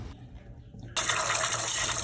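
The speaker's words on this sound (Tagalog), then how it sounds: "Ato na ni siya butangan og tubig guys kay ato na ni pabukalan." Water gushes steadily into a pot to be boiled for crispy pata, starting suddenly after a quiet moment and pouring on loud and close.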